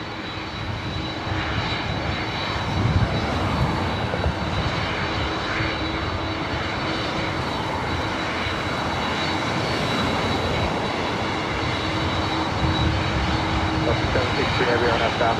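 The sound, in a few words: Boeing 767-300ER airliner engines at LAX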